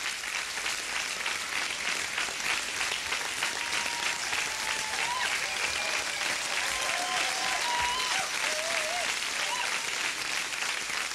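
An audience gives sustained, even applause for the final couples at the German Open Amateur Latin championship, a dense wall of clapping from a large hall, with faint whistles and a voice murmuring underneath.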